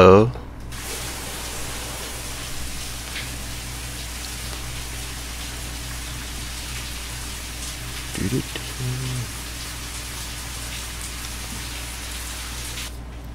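Shower water runs in the video game Life is Strange, a constant hissing spray that continues evenly under a low background hum, with a brief knock partway through.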